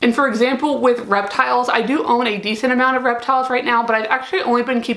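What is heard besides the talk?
No everyday noises stand out.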